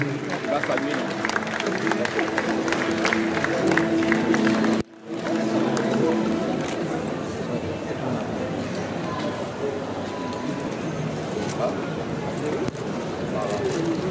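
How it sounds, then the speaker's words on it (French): An audience at a book fair gives an official delegation an ovation, with clapping and crowd noise mixed with a voice over a loudspeaker and a brief drop near the middle. "Ovation très fort pour la délégation officielle"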